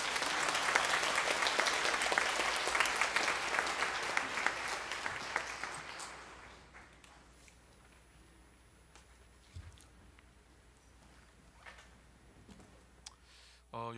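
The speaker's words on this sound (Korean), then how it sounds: "나오실 때 박수로 환영하도록 하겠습니다" Congregation applause in a church welcoming the pastor to the pulpit, a loud, dense clapping that fades out after about six seconds into quiet room tone.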